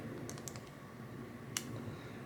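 Button of a Wurkkos TS10 Max flashlight clicked several times in quick succession, small faint clicks near the start, then one sharper click, all under a steady low background hiss.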